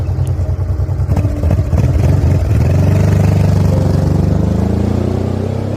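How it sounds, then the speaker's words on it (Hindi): A motorbike engine on a road trip starts up close and loud, settling into a steady rumbling idle that keeps running to the end with no talking. "समीर ने तुरंत बाइक को स्टार्ट करने की कोशिश की, और लकीली उनका बाइक स्टार्ट हो गया।"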